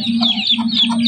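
Chickens and chicks cluck at a zoo, a steady run of close, bright calls repeating over a low constant hum, with no talk.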